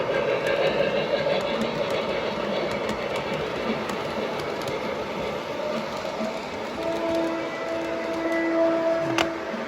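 A small model train runs continuously along its track with a steady whirring motor and faint clicking from the rails. A high whine joins near the end.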